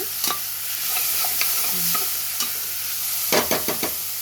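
Ingredients for goat leg soup sauté on a low flame, a constant soft sizzle with several sharp clinks and scrapes of a spoon against the pan, the stirring clustering toward the end.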